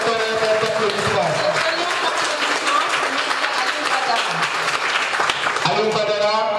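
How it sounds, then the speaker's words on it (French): Thunderous audience applause at a free training event on entrepreneurship, digital marketing and cybersecurity, dense steady clapping filling the whole stretch with crowd noise and voices mixed in, swelling again near the end. "Donc des applaudissements, des tonnerres d'applaudissements."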